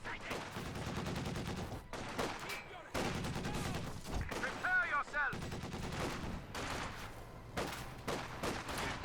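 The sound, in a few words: machine gun fire in video game Company of Heroes 2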